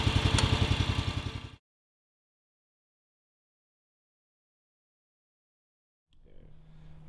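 A Pasquali BCS petrol walking tractor engine chugs loudly with a fast, even pulse for about a second and a half, then cuts to silence before a fainter rumble returns near the end.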